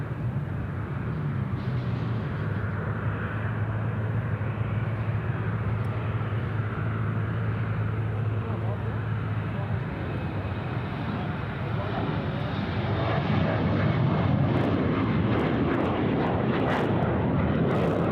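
Jet aircraft landing on runway 34 left at Sydney Airport, a steady loud engine roar with low rumble that swells slightly louder toward the end, with no talk over it.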